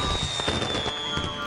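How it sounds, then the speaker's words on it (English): Fireworks rockets go off at a funfair, a dense continuous crackle and rumble of bursts filling the short moment, loud and busy with no clear individual bangs. "the fireworks began. The rockets soared"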